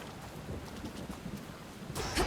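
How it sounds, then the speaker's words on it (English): Rain falls steadily with low rumbling thunder in the video game Hades 2, an even wash of patter that swells near the end. "Raining again."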